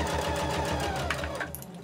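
A sewing machine steadily stitching the fabric for a cloth mask storage pouch, its needle pounding in a fast, even rhythm close to the microphone throughout, with no talking.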